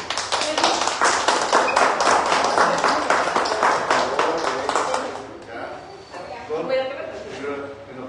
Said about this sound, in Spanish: quiero pedir un aplauso a la doctora Idalia